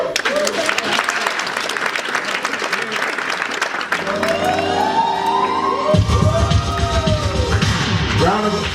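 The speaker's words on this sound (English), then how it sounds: "Round of applause for all the bronze builders, ladies and gentlemen." Crowd at a live launch event applauds steadily, a dense continuous clapping wash that carries on while music with rising tones and a deep bass beat fades in and grows louder.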